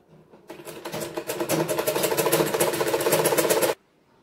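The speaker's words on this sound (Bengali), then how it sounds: "এভাবে পুরো রাউন্ড করে সেলাই করে নেব।" A sewing machine stitching around the leg hem of a girl's half pant runs at a steady whirring pace for about three seconds, starting up, then cutting off abruptly into silence.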